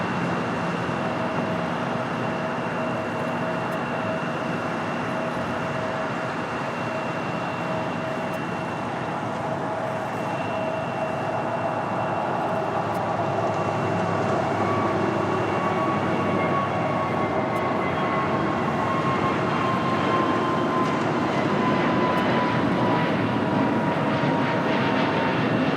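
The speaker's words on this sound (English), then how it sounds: "Next takeoff is the Frontier Mojave the Desert Tortoise livery, flight 3156, heading to Denver." Frontier Airlines A320neo in Desert Tortoise livery taking off at LAX, a long steady jet roar with whining engine tones that slowly glide downward as it climbs away, fairly distant, with no talk.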